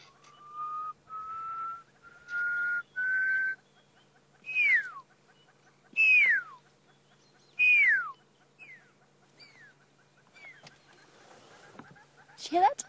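A person whistles to imitate a pearl-spotted owlet call during a sunset safari drive, first four steady whistled notes, then a series of loud descending whistles repeated at intervals, close and clear in quiet bush.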